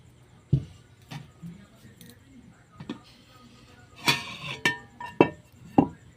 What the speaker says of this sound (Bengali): এইবার হাঁড়ির ঢাকনাটা খুলে দেখাবো আপনাদেরকে।